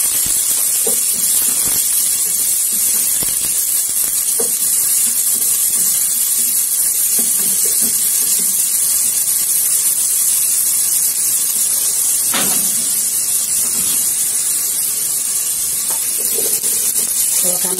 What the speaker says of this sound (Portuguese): Aí agora eu vou colocar o pimentão e a cebola, ó, vou dar uma murchada.